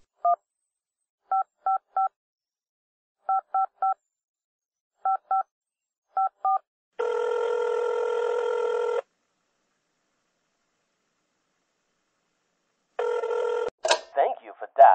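Pairs of touch-tone keypad beeps dialed in quick bursts, followed by a long electronic ring tone, silence, then a second ring cut off by a recorded voice answering.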